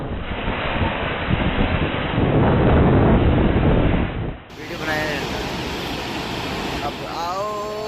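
Roaring storm wind gusts in Thailand buffet the microphone in a loud, continuous rush, swelling then dropping briefly before the blustery roar resumes.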